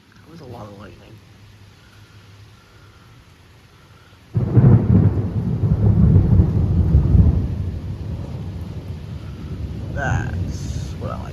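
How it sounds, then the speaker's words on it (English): Quiet rain, then a sudden loud crack of thunder rumbling for several seconds over steady rain, with faint voices around it. "I'm hoping you guys can hear the thunder"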